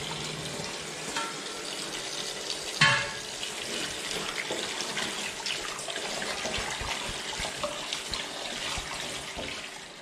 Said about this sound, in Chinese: 切好的笋呢，就过一下水